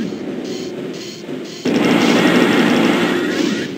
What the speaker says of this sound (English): I'm just gonna go ahead and use this glass gun.